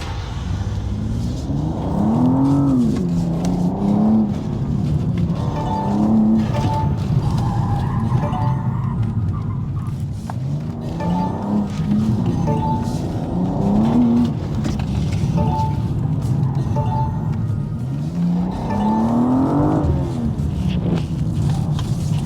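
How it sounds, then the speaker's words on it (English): A brand-new BMW M2 prototype engine revs up and down repeatedly through gear changes, loud and close from inside the car during a mixed-reality drive, with a continuous rumble and a steady whir throughout. "So once again, this is the brand new BMW M2."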